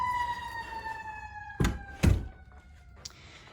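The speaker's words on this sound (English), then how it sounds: "there is an ambulance coming around" An ambulance siren wails steadily in the distance outside a preschool, its tone slowly falling as it passes, while two loud thumps, like a door, cut in close by.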